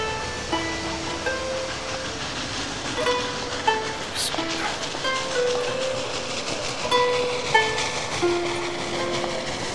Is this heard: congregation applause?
no